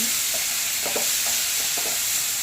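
Gooseberries lightly sautéed in a pan for rasam, with a constant close sizzle and a handful of scraping stirs from a spoon.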